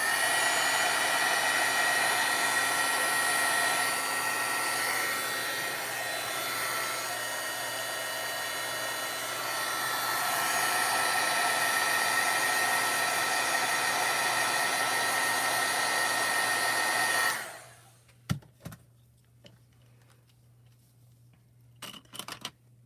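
A hair dryer blows steadily at close range over a mixed media mermaid craft for about seventeen seconds, then switches off, leaving a few faint handling clicks and bumps.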